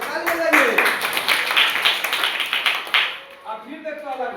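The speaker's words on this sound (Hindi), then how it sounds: "देखो पिंजरा में चला गया तो ताली बजाइए।" Schoolchildren in a classroom clap together in a quick, uneven burst lasting a few seconds, with voices talking over and after the applause.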